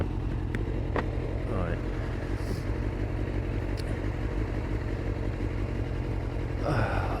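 Suzuki GSX-R 600 K3 motorcycle engine droning steadily and loud throughout, with a rider's voice briefly heard over it.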